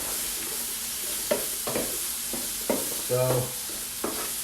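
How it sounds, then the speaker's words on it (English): Gnocchi frying in a pan are stirred over a steady sizzle, with several distinct scraping strokes spaced a second or so apart and a brief spoken word near the start. "We're going to give our gnocchi a stir."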